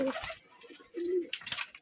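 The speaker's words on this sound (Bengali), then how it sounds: "দেখুন বিগ সাইজের একটা নর গিরিবাজ কবুতর মনে হয় এটা" A large male Giribaz pigeon coos close by in a short, soft, low burst, with faint background noise and no talking.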